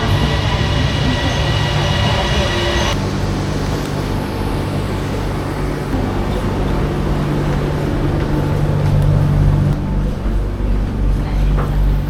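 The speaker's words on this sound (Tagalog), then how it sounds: "Ayan na, night train." A night train rolls into platform 2 of a station, a steady low rumble and mechanical hum of the arriving cars filling the whole stretch, loud and continuous with a shift in tone partway through.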